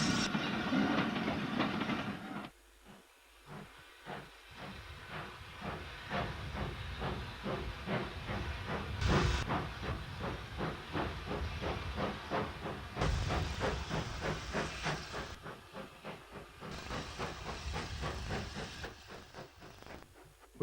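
Steam locomotive number 31551 pulls away from Cranbrook station on the Hawkhurst branch, a steady chuffing exhaust with hissing steam bursts and rail clatter throughout, fairly close and continuous with no voices.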